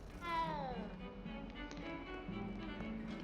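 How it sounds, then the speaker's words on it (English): A cat in Hogwarts Legacy gives a single drawn-out meow that falls in pitch near the start, fairly soft, then fades into a low, quiet background. "There's a kitty cat!"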